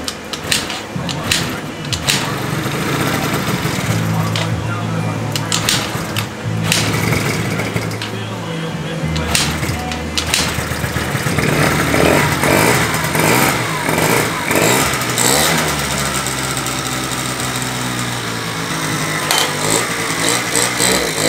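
A 1990 Yamaha Zuma scooter engine runs loud and near throughout, revving and settling over about twenty seconds after fresh fuel and a refitted carb, with a voice speaking over it.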